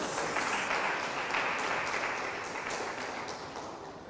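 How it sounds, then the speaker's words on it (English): An audience applauds a departing contestant at a National Bible Bee Ghana contest between Labone SHS and Ebenezer SHS. Steady, dense clapping from many hands fills the hall and fades slightly toward the end, with no talk over it. "let's give Matilda a round of applause"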